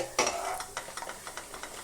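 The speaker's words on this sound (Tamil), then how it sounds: "பொன் நிறமாக உளுத்தம் பருப்பு வறுக்கணும் சிறிய தீயில் வச்சு வளருங்க" Urad dal stir-roasted in a pan over a low flame, a spoon scraping and clinking against the pan in a quick irregular rhythm, close and fairly quiet with a faint dry sizzle underneath.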